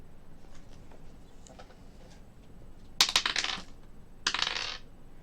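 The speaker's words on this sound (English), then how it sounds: "Good if the dice didn't roll off the fucking table." Dice at a Dungeons & Dragons tabletop session clatter in two short, sharp bursts of rattling impacts on a hard surface, fairly close, after a quiet stretch with faint background clicks.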